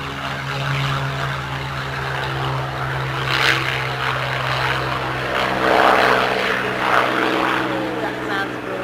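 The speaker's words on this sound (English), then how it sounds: "Sounds like the Spitfire going." Supermarine Spitfire flying overhead at an air show, its piston engine droning steadily with propeller hum and a slowly shifting pitch, while people talk nearby throughout.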